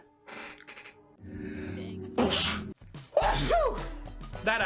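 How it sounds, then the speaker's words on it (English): A single loud human sneeze bursts out close to the microphone after some murmured voice sounds, followed by more vocal noise. "Now that was a sneeze."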